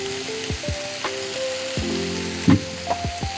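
Chopped brinjal fries in a pan with a steady hiss and sizzle, broken by several sharp clacks of stirring against the pan.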